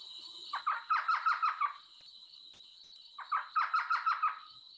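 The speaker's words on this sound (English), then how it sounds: "Here's an elf owl." An elf owl calls twice, each a quick chattering run of about six yelping notes, moderately loud with a pause between the two bursts and no other sound.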